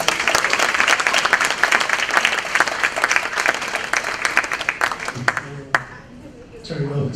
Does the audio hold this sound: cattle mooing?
no